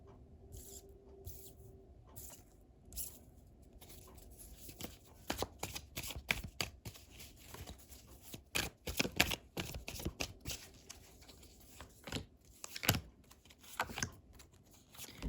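Tarot cards being shuffled and drawn by hand: soft papery riffles and flicks, with sharper card snaps near the end of the stretch, close and fairly quiet, with no talking.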